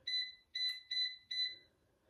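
An air fryer gives four short, high electronic beeps in a quick, slightly uneven row as it is switched on, clear and close in a quiet kitchen.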